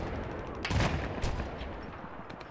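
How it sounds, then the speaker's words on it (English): Heavy explosive fire from mortars and XM25 grenade launchers in a 32 vs 32 online shooter match, with booming blasts clustered early and a dense, noisy barrage rolling on throughout. "All the mortars, all the XM25, all of it."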